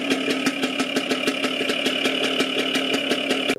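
A Lambretta engine idles on a rare Sipani Badal vintage two-wheeler-based car with a fibre body, a close, steady putting hum with rapid regular pulses and a slight knock, running alone before cutting off abruptly at the end.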